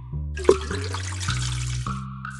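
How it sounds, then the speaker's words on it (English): Water pours steadily into a dog's bowl in a PBS Kids science game, a splashy, bubbling rush set over a sustained synthetic electronic tone that shifts pitch. "Thank you for giving the thirsty dog some water."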